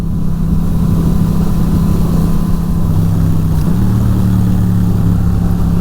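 Yamaha XSR700 motorcycle fitted with a Power Commander V, its engine running steadily with a low droning note that dips slightly in pitch partway through as it downshifts with rev matching; continuous and fairly loud, with no talking.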